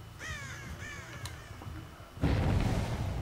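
Crows in the Dead by Daylight video game caw in a quick series of rasping calls at moderate distance, followed by a low rumbling swell of game ambience.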